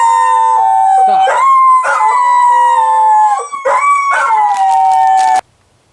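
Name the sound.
dogs howling and barking at coyotes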